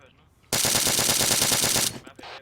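A machine gun fires a sustained burst of rapid, evenly spaced shots in the Arma military shooter video game, close and loud for over a second before cutting off.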